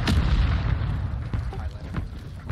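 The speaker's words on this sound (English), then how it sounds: "Mortar strike inbound now." Mortar strike explosions in the video game Warzone 2.0 roll as heavy, rumbling low booms, with several sharper blasts and cracks layered on top in a continuous barrage.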